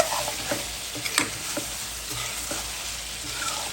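Boiled radish and a few taro stolons stirred and frying in a pan for a rohu fish curry with potato, eggplant and beans: a steady sizzle broken by soft spoon scrapes about every half second, with no talking.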